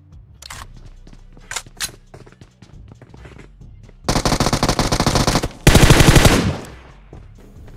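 Gunfire in a shooter video game: a few scattered single shots, then two long, loud bursts of rapid automatic fire in close succession, with no talking.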